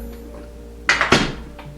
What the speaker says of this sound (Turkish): Kapıyı kapatayım